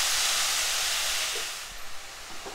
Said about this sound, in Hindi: प्याज को हम तब तक भूनेंगे जब तक कि ये गोल्डन कलर के ना हो जाए